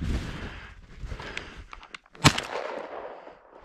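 Outdoor bird hunting shotgun blasts, scattered distant reports with one louder, closer bang standing out among wind and field noise.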